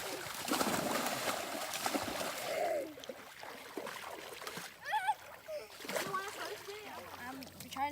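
Loud splash as a person leaps into cold river water during a canoe trip, followed by sloshing and churning water, with people talking and shouting nearby.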